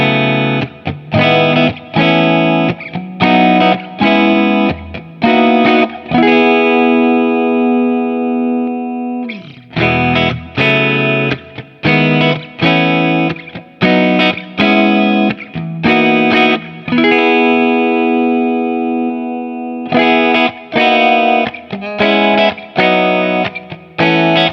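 A distorted Yamaha Revstar electric guitar plays chords and riffs from the neck pickup, loud and sustained, with brief gaps between phrases and no talking.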